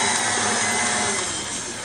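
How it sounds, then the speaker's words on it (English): A mixture is whisked in a mixing bowl with a loud, steady, continuous whirring noise that holds without a break from start to finish, and no one speaks. "Let's give that a good whisk."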